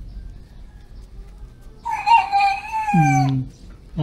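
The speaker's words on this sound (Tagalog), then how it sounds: "Binata na yung manok ni Bayaw, tumikilaok na." A young rooster crows once in a single rising-then-falling call that breaks off abruptly near the end, fairly close and loud over quiet outdoor background noise.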